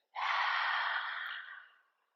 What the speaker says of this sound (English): open your tongue fully out, exhale when you do it